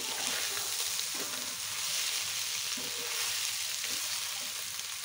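Cabbage with chopped coriander leaves sizzles and fries in a pan while being stirred, a close, steady crackling hiss broken by occasional scraping stirs, with no talking.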